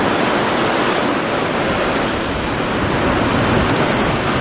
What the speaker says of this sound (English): It's not raining real hard. Wind's sure blowing.